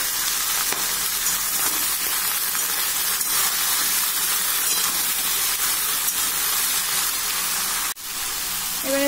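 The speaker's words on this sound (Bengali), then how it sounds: "এবারে কচুরলতি দিয়ে দেব।" Taro stolons going into a hot frying pan with dried fish give off a loud, steady sizzle and hiss that holds throughout, with a brief clatter and dip near the end.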